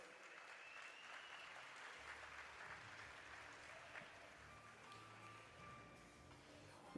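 An audience at a library week launch applauds in a full, steady round of clapping that lasts throughout, with a few faint voices underneath.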